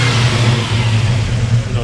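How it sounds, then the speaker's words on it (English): A fuel-injected Ford 351W V8 in a 1940 Mercury coupe revving, a loud, close engine roar that rises and wavers with throttle blips over a short burst. "Go ahead and rev it up."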